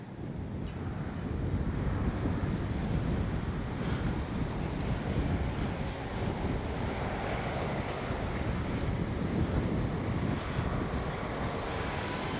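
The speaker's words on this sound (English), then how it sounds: "Yeah, it is windy." Strong wind buffets the microphone outdoors while an RC Piper Cherokee plane is flown, a continuous broadband rush with gusty swells throughout and no talking.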